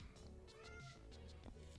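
An indoor cat meows faintly in a room, a few soft, drawn-out calls heard close to the background hum.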